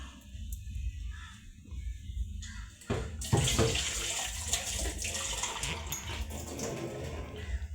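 Water pours steadily into a pot of Kerala curry, a continuous splashing rush that starts partway through and stays loud to the end, with a quieter murmur before it.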